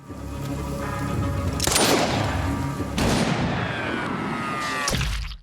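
Pistol gunfire in a gangster action film: loud, booming shots at intervals over a dense, continuous soundtrack, with no talk.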